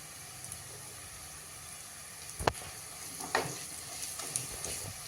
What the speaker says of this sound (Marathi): आता आपण एक टेबलस्पून एवढी आलं लसूण पेस्ट त्यामध्ये घालूया हिंग आणि हळद